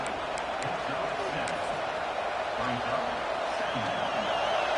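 Stadium crowd roaring steadily through a college football game between Georgia and UCF, a loud continuous wash of cheering and noise with faint commentary underneath and a few sharp thuds.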